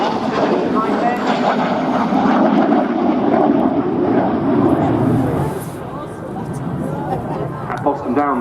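A French Air Force Alpha Jet rolls along the runway at Scampton, its engine a steady, loud jet roar. The roar eases slightly after about five seconds, and faint background chatter carries underneath it.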